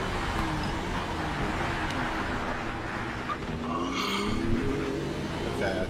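A racing video game plays a race car's engine as it chases a Porsche: a continuous, moderately loud engine drone with faint shifting tones and no clear breaks.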